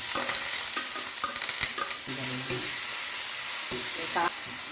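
Onion, garlic, curry leaves and a pinch of nigella seeds sautéing in hot oil, a loud close crackling sizzle with repeated clattering scrapes of a stirring spoon against the pan, no one speaking.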